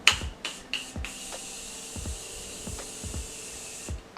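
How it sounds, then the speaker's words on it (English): Morphe makeup setting spray spritzed close by in a run of short, sharp hissing bursts, several quick pumps followed by a final one after a pause. "the last thing I'm going to do is go in with my Morphe setting spray"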